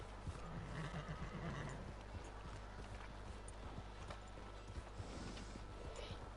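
Horse whinnying in the video game Red Dead Redemption 2, a short neigh near the start over a steady low rumble of game ambience, with faint clip-clop hoofbeats.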